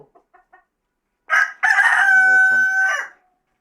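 Chickens give a few short faint clucks, then a rooster lets out one loud, close, drawn-out crow, with a brief spoken word at the start.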